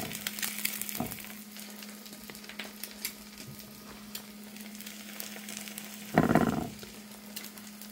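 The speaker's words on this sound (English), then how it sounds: "while my eggs are frying" Steady crackling sizzle of eggs frying in a pan, close and constant, with a brief louder burst of spitting near the end.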